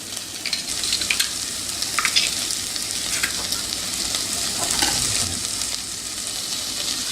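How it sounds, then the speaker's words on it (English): Ingredients for a large cobia head and wing curry sauté in hot oil, giving a steady, close sizzle with occasional stirring scrapes throughout, and no voices. "I'll let all that saute and cook."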